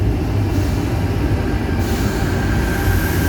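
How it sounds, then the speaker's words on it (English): A Sydney Tangara electric train rumbles through the underground platforms at Wynyard station, a steady loud roar of wheels and motors echoing in the tunnel, with faint squealing and no voices. "The train on platform 3 goes to Hornsby."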